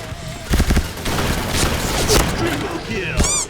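Rapid bursts of gunfire from a shooting video game, loud and close, with clustered volleys and a few heavier booms running through the clip.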